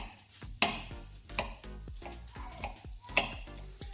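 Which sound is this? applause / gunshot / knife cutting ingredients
knife cutting ingredients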